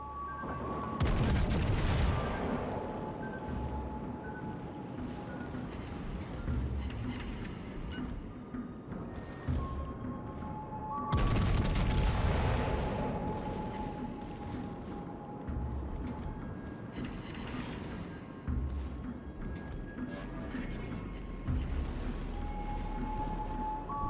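Secondary guns fire on the Atlântico warship in World of Warships Legends: a steady roar of rapid game gunfire and booming blasts, with louder bursts every several seconds, continuous with no voices.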